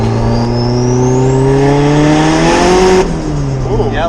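A twin-turbo car engine revs up in one long rising pull, loud and close, then the wastegate whooshes open as the pitch drops near the end.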